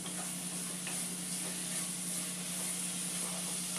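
A watercress seed laddu mixture cooks in a pan on high flame, giving a steady dense sizzle and hiss with faint scraping stirs throughout, close and continuous.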